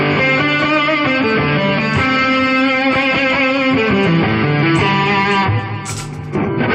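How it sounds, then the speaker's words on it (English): A custom Ibanez Jem/RG-style electric guitar is played with its front humbucker coils wired in series and in phase, giving warm, full sustained chords and notes, loud and alone with no talk. "the 2 coils of the front humbucker in series, and don't reverse the phase, and we get a typical front humbucker sound"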